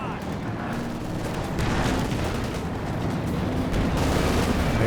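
A grenade blast in the real-time strategy game Company of Heroes 2, set amid a 2v2 battle with tanks and infantry, comes as a muffled boom inside a dense bed of continuous gunfire and rumbling combat noise, with a commentator talking over it.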